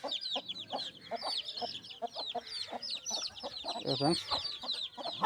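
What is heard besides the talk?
hen clucking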